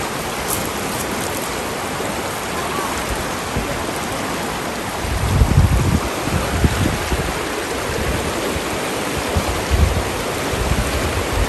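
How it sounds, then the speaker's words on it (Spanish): A river flows in a steady, broadband rush of water that runs throughout, with a few louder low surges midway and no voices. "Y el río."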